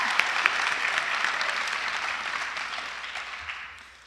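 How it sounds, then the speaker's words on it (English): A graduation crowd at Columbus Career and College Academy claps in sustained applause, a few sharp individual claps standing out early before the sound slowly thins and fades toward the end. "so give yourselves a round of applause."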